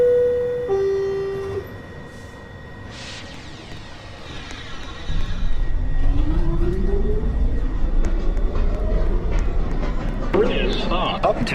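A subway train pulls into Beverly Road station during evening rush hour, its rumble and screech rising as it nears, following an automated platform announcement and chime.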